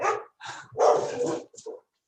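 Dogs bark close by in three or four sharp bursts separated by short pauses, ending in a smaller yip, with no talk.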